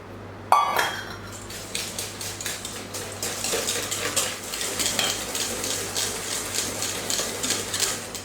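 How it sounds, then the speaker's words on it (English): Eggs for banana bread are stirred in a bowl with a utensil, giving rapid, continuous clinking and scraping strokes that sound close and fairly loud, starting with a sharp knock. "As you see, I like to stir my eggs first before I'm adding my sugar"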